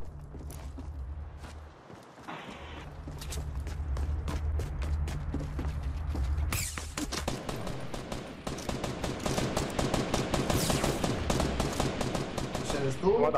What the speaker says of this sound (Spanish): Sí, soy yo que disparo, soy yo.